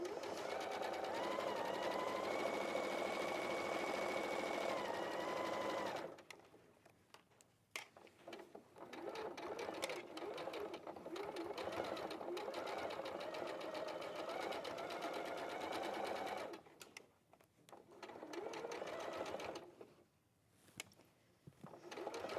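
A sewing machine stitches fabric in long steady runs, a close, even mechanical whirr that stops and starts in several bursts with brief quiet gaps between.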